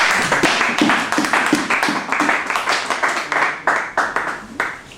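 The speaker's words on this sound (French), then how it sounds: "Applaudissons pour le Seigneur." A church congregation claps along, a steady rhythmic beat of many hands, loud and close, with voices faintly mixed in underneath.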